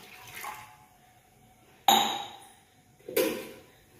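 Water is poured into a hot clay cooking pot, giving two sharp sizzling bursts that fade quickly, near and loud against a quiet background.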